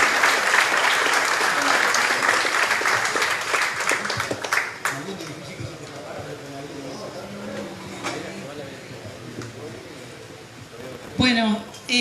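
Applause from an audience at a conference on the criminalization of protest, a dense clapping wash over the first several seconds that thins out, with murmuring voices and a short burst of sound near the end.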